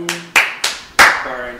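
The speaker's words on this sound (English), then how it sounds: "Clapping sounds great on the audio" Players of the party game Fibbage clap in four sharp, separate bursts close to the microphone, each decaying quickly, with brief voice tones between them.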